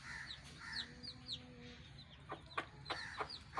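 Desi hens on a poultry farm cluck and chirp faintly, with soft short calls repeating at a distance over low background noise.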